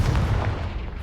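A Confringo explosion spell bursts in Hogwarts Legacy, a loud, dense boom with heavy low rumble that sustains through the whole short moment without fading.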